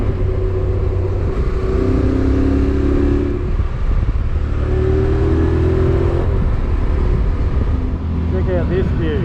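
Motorcycle riding the Apsley Highway in New South Wales, Australia, engine droning steadily and rising in pitch as it accelerates through gears, under constant wind rush.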